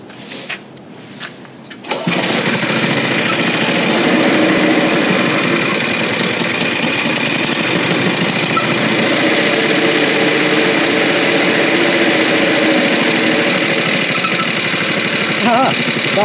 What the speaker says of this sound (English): That was the least effort to start this lawnmower I've ever experienced.